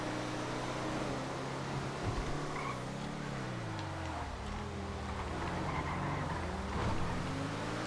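Yosemite drift car in a GTA FiveM street race, engine droning steadily throughout with rising and falling pitch as it revs and shifts, alone with no talk.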